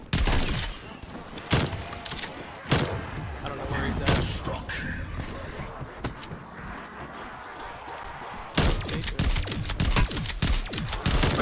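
Rapid gunfire crackles throughout a round of Call of Duty Zombies, with dense bursts of shots and impacts layered over busy game sound and a speaking voice.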